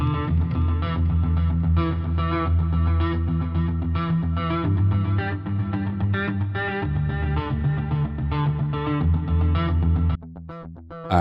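Clean electric guitar riff played through the Electric Storm Deluxe instrument with echo, loud and continuous strummed and picked notes that ring out before a short pause near the end.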